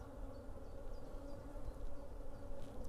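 Honeybees, including a large male drone, buzz in an open hive during inspection with a low, steady drone, fairly quiet and close, with no talk.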